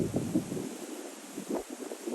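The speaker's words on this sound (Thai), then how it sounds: "โอ้ลมแรงจริงๆ" Strong wind blows in Florida as a storm approaches, a steady rushing roar that buffets the microphone in uneven gusts, with no talk.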